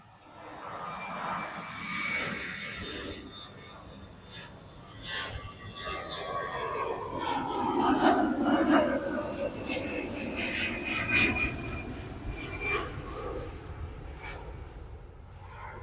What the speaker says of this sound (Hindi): जहाज़ के शोर की वजह से हमने उसको स्टॉप किया